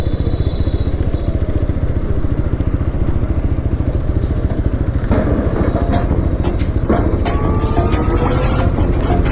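A motorcycle is ridden along at speed, its loud, close engine drone steady and throbbing throughout, with rattling clatter and wind noise layered on top.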